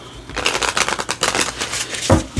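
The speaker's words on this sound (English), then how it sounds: "I'm going to shuffle for the first question" A deck of cards is shuffled by hand for a tarot-style reading, a run of quick riffling bursts close to the ear with short pauses between them, heard alone.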